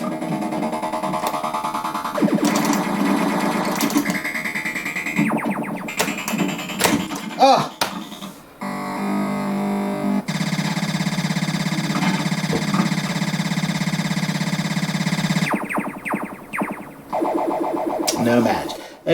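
Williams Space Shuttle pinball machine plays loud electronic sound effects: descending synth sweeps, bursts of buzzing tones, clacks and thumps from the playfield, sharp changes between effects, and a sustained droning tone in the middle, with no talk.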